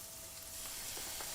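Garlic sizzles quietly in a hot pan, a soft continuous hiss with faint crackles and a light stir near the end.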